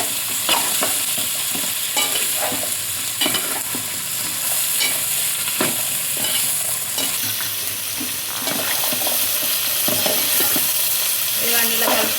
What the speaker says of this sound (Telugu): కలిపేసి ఇవి కూడా బాగా వేగాలి ఆయిల్లో.